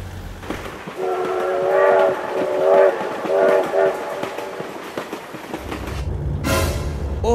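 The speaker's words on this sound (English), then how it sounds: "Oh my God, train!" A train in a vehicle video game blares its horn in repeated loud blasts as it approaches, then rumbles past with heavy rolling noise. A voice exclaims over it near the end.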